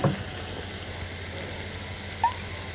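Onion sizzles and fries in butter and a little oil, a steady, even crackle that holds close and moderately loud throughout, with a couple of brief clinks near the start and end.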